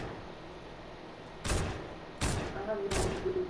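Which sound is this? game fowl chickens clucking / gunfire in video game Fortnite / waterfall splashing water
gunfire in video game Fortnite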